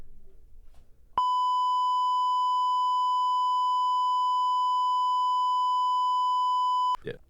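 A steady electronic sine-tone beep from a sound pad, one long unbroken tone lasting about six seconds, loud and alone, with faint voices just before and after it.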